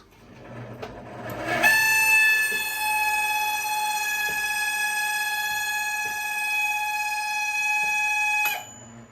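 A faulty microwave oven switched on lets out a loud, sustained high-pitched whistling screech that holds steady for several seconds, with faint clicks underneath, then cuts off abruptly.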